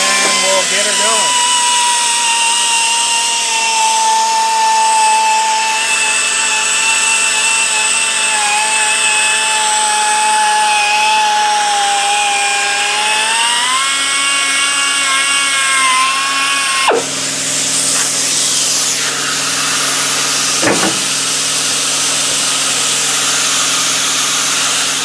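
Air-powered polisher buffing a car headlight during restoration, a loud steady whine that shifts pitch partway and then cuts off, with a brief clunk before a lower hum continues.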